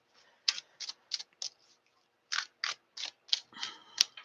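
Tarot cards are shuffled in a quiet room, giving a string of about a dozen crisp, papery snaps and riffles in uneven bursts with one brief pause.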